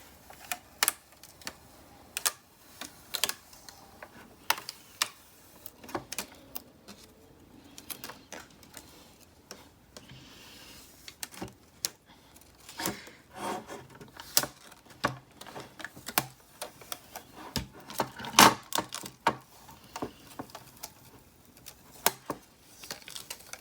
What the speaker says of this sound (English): whatever does not peel up, I will go back and just weed it out. So I'm just peeling this.